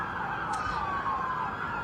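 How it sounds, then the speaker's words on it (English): Police and emergency vehicle sirens wail through downtown Los Angeles during a curfew amid protests, a steady, moderately distant siren tone sweeping slowly over a low city hum, with no talk. "We can hear the sirens."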